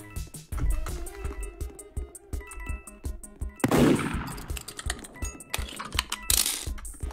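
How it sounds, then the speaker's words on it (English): Gunshots in the Roblox Murder Mystery 2 video game: a burst of several sharp shots near the middle over a steady run of rapid keyboard clicking, with background music. "Why is she just shooting without having seen someone with a knife in their hand?"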